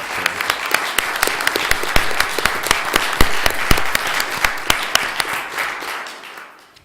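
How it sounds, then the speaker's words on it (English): A room at a special election meeting applauds a board member, with distinct, fairly close hand claps from a modest crowd that build and then taper off toward the end. "I'd like everyone in the room to give another round of applause for this board individual"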